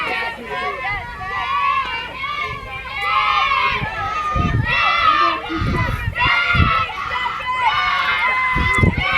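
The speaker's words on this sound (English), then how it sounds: "Rough Riders trying to cheer Encinas on." Softball fans at a junior college game cheering and shouting for a player, a lively crowd of chants and yells with voices overlapping, fairly near and sustained throughout.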